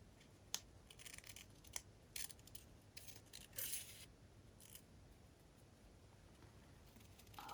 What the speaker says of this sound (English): Just going to do a little cut here like this.